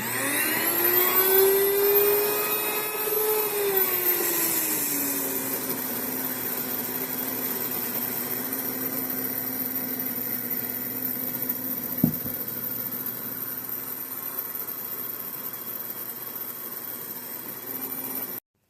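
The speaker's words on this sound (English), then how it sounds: "turn the grinder on. It sounds like an airplane taking off" Electric grain mill grinding wheat kernels into flour, a loud, steady roaring whine that spins up with a rising pitch, then holds a constant rushing drone throughout, with a single sharp knock partway through.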